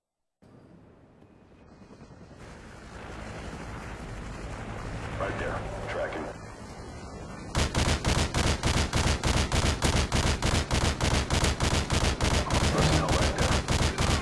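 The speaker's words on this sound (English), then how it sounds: "Friendly Predator missile incoming." Predator missile strikes and battlefield fire in Modern Warfare 2: a swelling, roaring blast rumble gives way to loud, dense, rapid rhythmic bursts that hammer on to the end.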